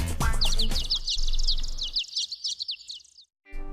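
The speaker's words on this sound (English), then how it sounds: "Ah, nice birds." Bird chirps and tweets in the video game War of the Human Tanks ALTeR, a rapid run of bright repeated calls sounding over low music or ambience, then fading out before a short pause.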